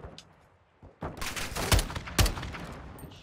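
Gunfire in the video game Call of Duty: Modern Warfare 2 during a night-vision campaign mission, with a few sharp shots that burst out over a busy, noisy backdrop after a quiet start.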